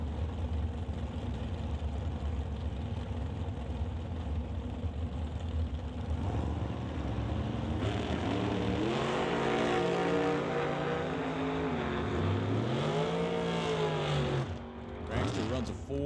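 Orange 1966 Chevelle and a dragster thunder down a drag strip, engines droning steadily and climbing in pitch as they pull away, loud throughout with an announcer talking over the roar.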